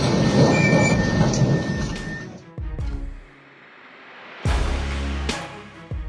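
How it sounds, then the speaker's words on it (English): A moving train strikes a truck: loud rumbling rail noise gives way to a sharp crash, a brief lull, then another heavy impact burst and trailing clatter. "Well, that's one way to test a truck's durability, unfortunately against a moving train."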